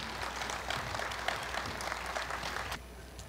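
Audience applause at a Korea University anniversary ceremony, greeting a chairman walking up; dense, steady clapping from a crowd that stops abruptly near the end.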